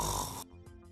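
Loud, rough snoring from a sleeper with sleep apnea, one brief, harsh breath that cuts off abruptly and leaves faint low noise behind.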